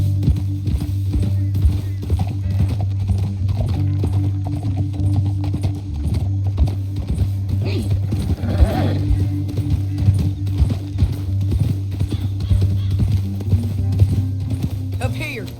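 Horse hooves clip-clop steadily on the ground in Red Dead Redemption 2, a rhythmic close trot with a low background drone and a brief snort or whinny.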